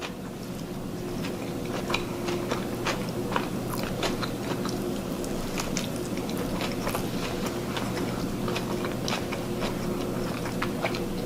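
A steady run of close, crisp bites and chewing into a Mexican-style al pastor pork slider with pickled purple onions on a soft bun, dense and continuous against a low background hum.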